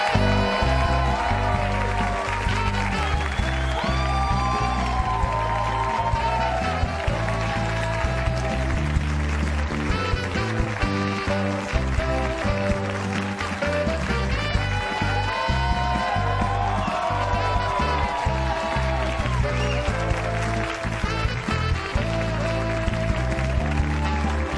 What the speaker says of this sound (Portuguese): A música e os aplausos.